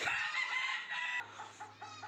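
A hen clucks and chatters continuously at close range, with no voices.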